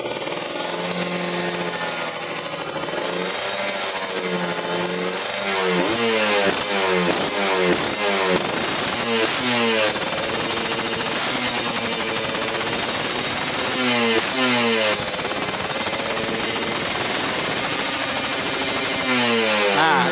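An engine is revved to higher RPM on a bench or in a workshop, its pitch climbing in repeated rising sweeps over a steady loud drone with no talk.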